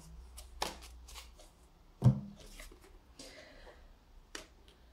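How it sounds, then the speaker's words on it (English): Tarot cards are shuffled up close in soft riffles and flicks, with one sharp slap of a card partway through, quiet overall and with no talking. "I want to shuffle a card out of the deck"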